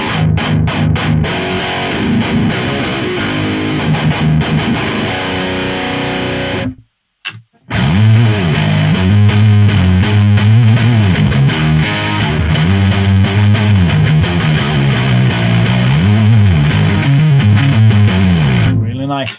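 Fuzzy high-gain electric guitar through the Audio Assault RVXX amp sim, played as loud sustained chords and riffs with heavy distortion, a brief dropout near the middle, then continuing dense and saturated to the end.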